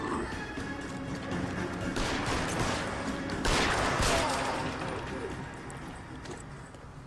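Several gunshots ring out in an L.A. Noire shootout, with two broadband bursts standing out amid ongoing game noise and people talking over the action.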